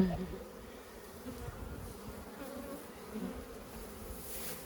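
Honey bees buzz steadily at the hives, a dense humming drone close by with no talking.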